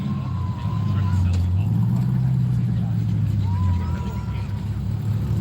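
Exhaust of a Lamborghini Huracán STO sports car at a car show, a deep steady rumble that swells briefly as the engine is blipped, close and continuous with faint chirps above.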